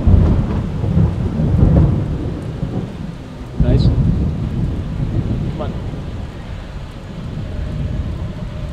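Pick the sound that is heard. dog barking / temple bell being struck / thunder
thunder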